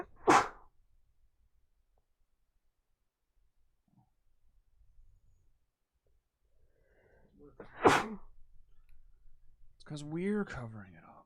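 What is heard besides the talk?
sneeze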